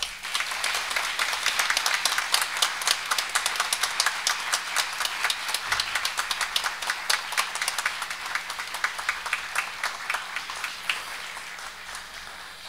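A graduation audience at Colegio Luis Hess in Sosúa gives sustained applause in tribute to its late director: dense, steady clapping from many hands that holds evenly for more than twelve seconds without talk.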